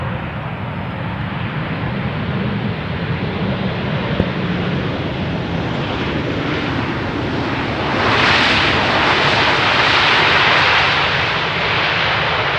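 Airliner arriving on runway 18R at Amsterdam Schiphol, a loud sustained engine roar with rushing wind noise that swells stronger in the latter part as the aircraft passes nearby.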